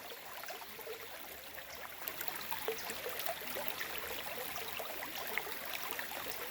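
A Missouri creek flows with a soft, even rush and faint trickling, quiet and continuous, heard alone with no voices.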